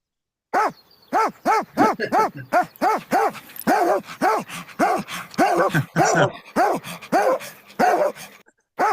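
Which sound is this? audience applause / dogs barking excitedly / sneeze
dogs barking excitedly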